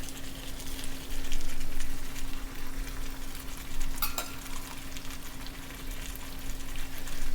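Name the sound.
curry leaves and flat beans frying in a pan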